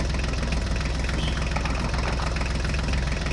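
An HMT tractor engine runs at a steady, loud, rumbling idle with a continuous knocking throb, with no voices.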